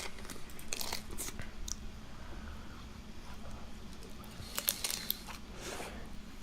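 Deep-fried avocado bitten and chewed up close, giving several quiet, crisp crunches spread irregularly through a low-level background.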